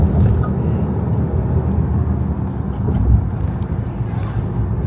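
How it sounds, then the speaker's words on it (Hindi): Dense heavy traffic with trucks on a narrow road near forest, hills and the Chambal river, a loud continuous low engine rumble and road roar close by with no break. "और ट्रैफिक बहुत है इस रोड पे, बहुत हेवी ट्रैफिक है।"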